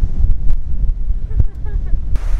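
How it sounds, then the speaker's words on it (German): Strong wind buffets the microphone in rough, rumbling gusts at Coral Bay, Australia, with a faint voice briefly audible underneath. "weil es schon mal so verdammt windig ist"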